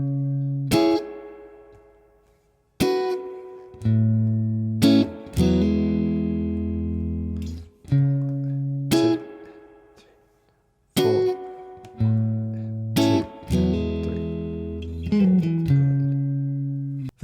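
An electric guitar plays the first tab line of a song: clean chord strums and single picked notes ring out and decay in a slow, spaced rhythm, alone and clear.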